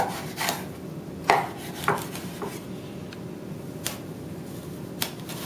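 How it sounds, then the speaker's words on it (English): A knife cuts a peeled eggplant into half-inch slices on a board, giving a handful of close, crisp chops and taps spaced out over a quiet background, with no talking. "And I'm going to cut about 1/2 inch slices"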